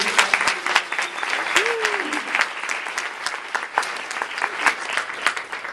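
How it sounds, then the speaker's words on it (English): An audience breaks into a sustained round of applause at a keynote event, dense steady clapping from a crowd filling the room at an even loudness from start to finish. "Can we just have a round of applause for them?"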